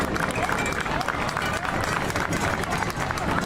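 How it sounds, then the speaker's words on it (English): Crowd applause in the stands at a high school varsity football game between Crockett and New Waverly, a steady dense roar of clapping and crowd noise heard from within the bleachers, continuous throughout. "I ask that you show them that you understand their job by a round of applause"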